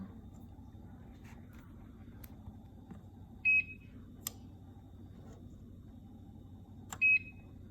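A Cosori XL air fryer gives two short, clear electronic beeps a few seconds apart as its buttons are pressed, over a low background hum.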